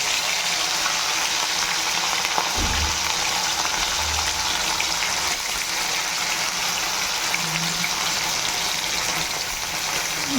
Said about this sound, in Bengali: এদিকে দেখো এখনও মাছ ভাজা চলছে